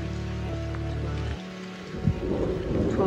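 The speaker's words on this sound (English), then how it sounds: "the thunder came in and the rain got heavier" A thunderstorm with heavy rain breaks over woodland. A low steady hum gives way to loud rolling thunder and a building rush of rain.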